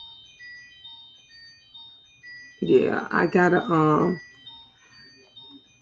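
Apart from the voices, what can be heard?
phone ringing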